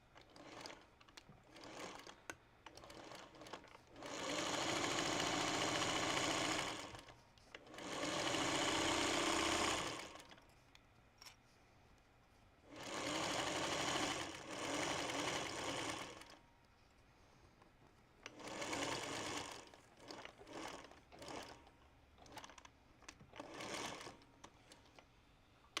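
A sewing machine stitches a tote bag together during assembly in several quiet bursts of rapid whirring, each a few seconds long, separated by pauses of low background hush.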